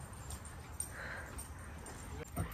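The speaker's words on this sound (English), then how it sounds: "Dog's outside whining." A dog whines faintly outdoors in a few soft, brief whimpers over quiet background noise.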